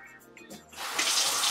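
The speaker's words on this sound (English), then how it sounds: "And then turn on some cold water." A cold-water tap is turned on at a sink during home hair coloring, with a few small handling sounds followed by a sudden rush of running water that continues steadily and fairly loud.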